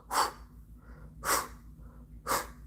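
A voice mimics a gorilla breathing right in someone's ear: three evenly spaced, close, breathy huffs, each a short, sharp exhale, separated by quiet pauses.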